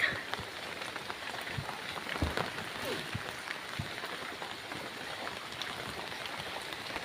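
Steady monsoon rain falling on a surface near a farm field, dense patter of drops with occasional louder splats, continuous throughout.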